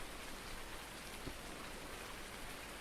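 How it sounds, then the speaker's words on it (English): Steady rainfall in Farming Simulator 19 on a farm map, a dense even hiss of drops with no other sounds and no talking. "It's still raining,"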